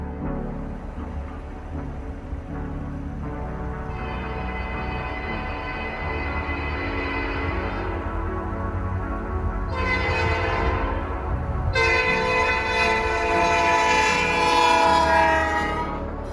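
A train rumbles and clatters past nearby in Suwanee, Georgia while its horn sounds in long, loud blasts, growing louder toward the end; no voices.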